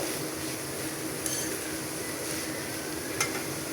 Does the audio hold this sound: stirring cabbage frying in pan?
yes